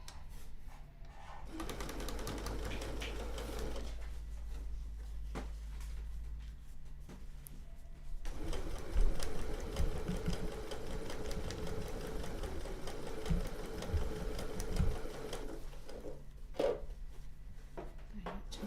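A sewing machine stitches the final seam of a sew-along project, with a low steady mechanical whir running for long stretches, fairly faint and close, broken by brief pauses and handling noises.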